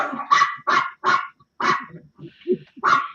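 Several dogs bark in loud, repeated bursts close by, about six sharp barks with short gaps, plus a few lower yips and whimpers between them, heard indoors during a live home broadcast.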